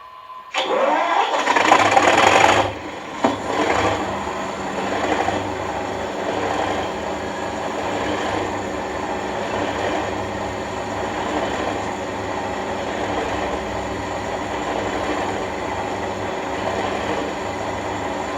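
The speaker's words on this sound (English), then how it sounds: "here is the engine start sound." An Accurascale Class 37/6 model locomotive's diesel engine start sound plays, beginning with a loud cranking burst and then settling into a steady, rumbling idle that continues evenly without a pause.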